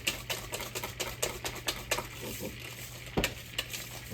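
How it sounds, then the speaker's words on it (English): A hand whisk beats peach upside-down cake batter in a bowl with a quick, rhythmic series of clicking, tapping strokes against the sides, close and fairly loud, with one sharper knock partway through and no talking. "I'm just gonna use my whisk"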